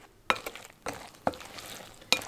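A spoon stirs a milk dessert mixture made with two cups of milk in a pot, giving a few distinct scraping clinks spaced about half a second apart over a soft background.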